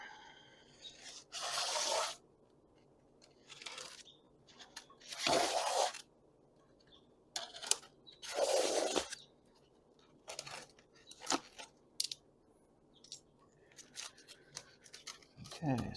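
A package packed with styrofoam is cut open, with several separate rasping, scraping strokes of a second or two each, mixed with smaller crinkles and taps, close and moderately loud.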